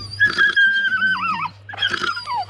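A dog working rats around the feeders on a pig farm gives close, strained growling whines in two bursts, pitched and wavering, over a steady low hum.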